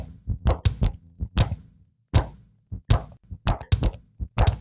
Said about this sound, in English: you're going to pat that rhythm, let's say on your chest